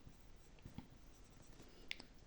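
A pen scratches across a paper budget envelope in a quiet room, a few faint short strokes with a slight tap, very soft and close with steady low background hiss.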